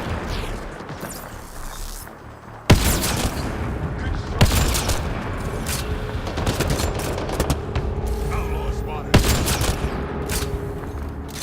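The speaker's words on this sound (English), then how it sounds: "What are they shooting at?" Gunfire in the sci-fi shooter Mass Effect Andromeda: sharp gunshot bursts ring out at irregular intervals over a steady ambient game backdrop, the shots loud and close.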